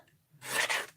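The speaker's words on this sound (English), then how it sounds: "I'm just going to trim this down a little bit" Paper being trimmed down for a handmade card makes one short, dry scraping cut close by, rising quickly and fading within about half a second in an otherwise quiet room.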